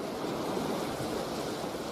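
Sea waves wash in a steady, unbroken roar of surf, close and even, with no voices.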